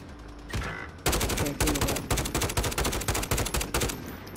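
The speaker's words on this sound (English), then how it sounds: "I can't shoot this fucking gun" Gunfire in a shooter video game, rapid close bursts of automatic fire cracking repeatedly after a brief lull, loud and dense.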